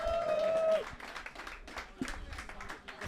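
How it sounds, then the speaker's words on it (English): A live audience at a London World of Warcraft community event claps briefly after a short tone, a loose burst of applause that thins out within a few seconds. "Can we get a huge round of applause for Dungeon Dojo"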